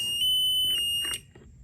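A TCAD device sounds its low-range alarm, a steady high electronic beep tone that cuts off after about a second, close and alone.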